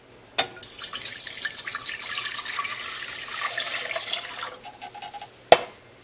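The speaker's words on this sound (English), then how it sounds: "to that, we are going to be adding 3 cups of apple cider vinegar." Three cups of apple cider vinegar poured into a medium to large stock pot for sweet and sour pepper relish, a steady splashing liquid stream lasting several seconds, close and fairly loud, with a sharp clink at the start and end.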